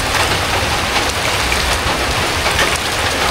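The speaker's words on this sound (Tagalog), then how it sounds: "Nabutan tayo ng ulan. Ito lang. Gising ko ito mga kabayan. Buhos ng ulan." Heavy rain pours down steadily, a dense, loud wash of drops drumming on surfaces with no pauses and no voices.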